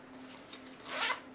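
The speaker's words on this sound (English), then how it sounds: "So in the little mesh zipper pocket, I'm going to put my earbuds" A zipper runs along a small mesh pocket on an Alpaka Elements backpack, a short, close rasping pull that swells near the end, alone and fairly quiet.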